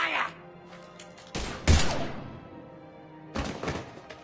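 Gunfire in a video game, a few sharp, heavy shots and thumps spread unevenly across the moment, loud and close against a low ambient hum.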